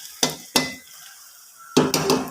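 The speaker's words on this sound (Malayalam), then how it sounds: "ഇതിലേക്ക് നമുക്ക് താളിച്ച് വെച്ച കടുകും വറ്റൽമുളകും ഉള്ളി എല്ലാം കൂടെ ഒഴിച്ചു കൊടുക്കാം" Tempered mustard seeds, dried chillies and onion go into a cooked jackfruit dish in three loud bursts of sizzling and scraping against the pan, with quiet gaps between them and no talk.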